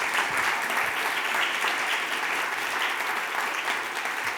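An audience claps for a panel at an event on racial equity in the built environment, producing dense, even applause that holds steady for about four seconds and then eases slightly at the end.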